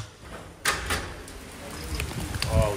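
A door clatters open with a sharp knock and rattle, followed by a brief voice and shuffling movement nearby.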